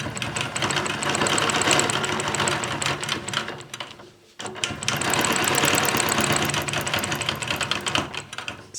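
A sewing machine stitches a quilted leaf guided by a Taj ruler, running in a steady fast hum with rapid needle clatter, pausing briefly midway before starting again at close range.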